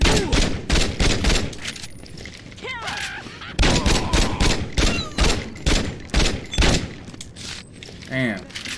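Repeated gunfire in Saints Row 2, rapid bursts of close, loud shots in uneven clusters, with shouted voices and game noises mixed between the volleys.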